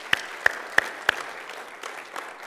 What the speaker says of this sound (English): you really should give yourselves a round of applause